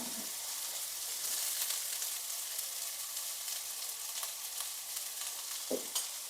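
Cut green beans and onions sautéing in a pan produce a continuous quiet sizzle with light stirring scrapes and one short knock toward the end.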